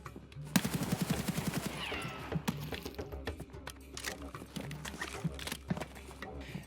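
Full-auto rifle fire sounds in Escape from Tarkov, with a rapid burst of shots near the start and scattered sharp cracks afterward, mixed with footsteps.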